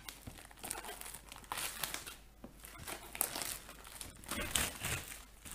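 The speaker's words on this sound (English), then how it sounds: "I'm just gonna get my knife and let's just make a small cut right there." Packaging is cut open with a knife during an unboxing, heard as continuous crinkling and tearing of plastic and cardboard with scattered crunchy bursts, close and fairly quiet, no voices.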